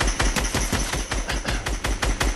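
Rapid automatic gunfire from Fortnite as a llama is shot, about a dozen evenly spaced loud cracks over a couple of seconds, steady and close with no talking.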